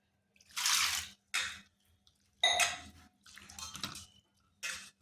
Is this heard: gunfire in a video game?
no